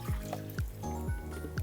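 Milk trickles and gurgles as it is poured into a measuring cup for a fish curry. The pour is brief, soft and close, with small splashy pulses.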